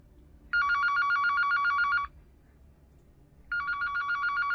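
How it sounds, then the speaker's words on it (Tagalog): A telephone rings with a trilling electronic bell, one long ring of about a second and a half, a pause, then a second ring starting, clear and close in a quiet room. "Narinig ang biglang pagtunog ng kanyang telepono."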